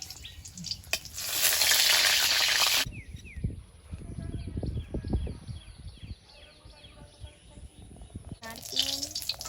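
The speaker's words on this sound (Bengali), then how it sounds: "তেলের মধ্যে দিচ্ছি দুটো শুকনো লঙ্কা হাফ করে" A loud hiss of dried chillies frying in hot oil in a wok bursts in for a few seconds, then fades to a gentler sizzle with clatter and stirring, before flaring again.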